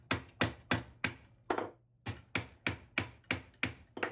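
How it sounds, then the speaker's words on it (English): Metal ring shank hammered on a ring mandrel, a steady run of about a dozen sharp close metallic strikes with one short pause partway through, and no talk. "I hammer with my left hand."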